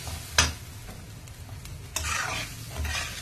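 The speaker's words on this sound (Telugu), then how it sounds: "ఇది కూడా అన్నీ కలిపి లైట్గా వేపుకున్నాం." Grated coconut and bansi rava semolina stirred and lightly fried together in a pan for kesari: a steady sizzle with scraping stirs and a few sharper clatters from the spoon, close and without speech.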